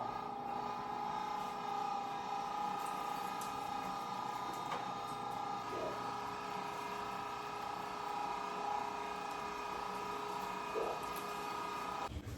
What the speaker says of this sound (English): Now we're gonna start grinding up meat.